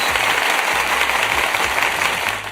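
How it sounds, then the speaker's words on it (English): One man applauding himself with a few seconds of steady hand clapping, fairly loud and continuous, with no talk over it. "I just want to applaud myself real quick"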